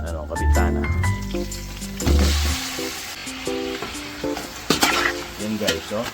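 Garlic and onion sauté in a pan, a steady frying hiss with stirring scrapes and utensil clinks, heard under a person talking and background music.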